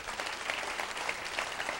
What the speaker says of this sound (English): we would like to applaud you